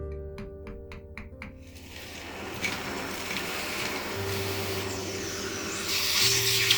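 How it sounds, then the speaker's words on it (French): After a few sharp taps, a vacuum cleaner runs with a steady whooshing hiss that rises in pitch and loudness as it sucks up putty debris from restoring a chapel skylight. "quand on démastique, etc., on prend l'aspirateur, on va enlever tous les débris de mastic"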